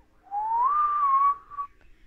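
A person whistles a single rising, then level, sustained tone to imitate the wind, clear and close, lasting about a second with a brief trailing note.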